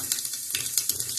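Cumin seeds crackle in hot oil for a khichdi, a brief, moderately loud frying hiss with small pops scattered throughout.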